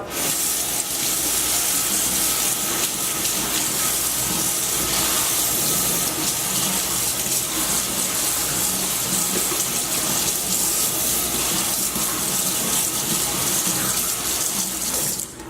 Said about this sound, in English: Rinse the strainer out.